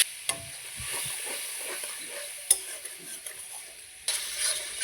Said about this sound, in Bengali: এখন এই তেলেতেই আমি মশলাগুলো ছেড়ে দেব।